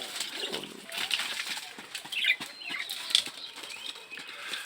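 Pigeons in a farm loft flap their wings in fright and scatter, with a flurry of fluttering bursts and scuffles at close range, the flapping moderately loud and uneven throughout.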